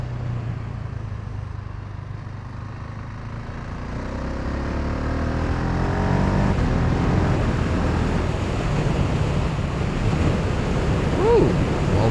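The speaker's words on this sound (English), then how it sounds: "now I open it a little bit to get a bit more wind in my" Inside an AGV AX9 motorcycle helmet with the visor opened slightly, wind rushes in a loud, steady roar that grows stronger partway through and keeps going.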